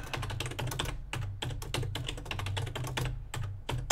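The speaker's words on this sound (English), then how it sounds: "I hope you couldn't guess my password from hearing that clicking on the keyboard there." Rapid keystrokes on a computer keyboard as a password is typed, sharp plastic clicks in quick irregular bursts with brief pauses, close and clear with no talk.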